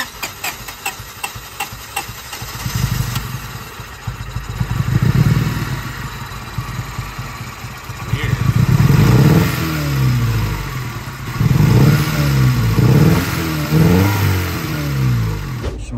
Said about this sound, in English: I'm starting it up and it's gonna go.